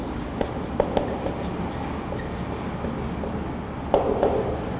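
A marker squeaks and taps against a classroom board in short, scattered strokes, quiet and close over a steady room hum, with a teacher's voice lightly present.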